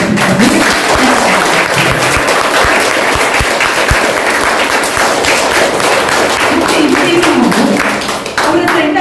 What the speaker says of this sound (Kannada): ಅವರಿಗೆ ಜೋರಾಗಿ ಚಪ್ಪಾಳೆ